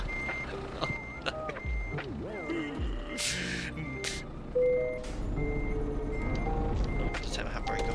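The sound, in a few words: truck reversing beeps, Euro Truck Simulator 2 video game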